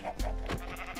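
Sheep bleating in the Minecraft video game, a couple of short wavering bleats at moderate volume with no talking over them.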